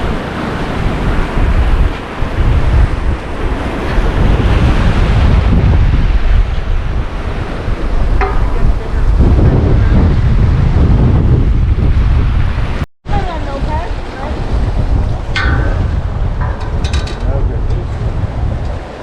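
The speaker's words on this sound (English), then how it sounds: "Crazy windy out here." Strong wind buffets the microphone at an ocean inlet on Florida's south side while surf crashes steadily, a loud continuous roar with a brief dropout near the middle and faint voices at times.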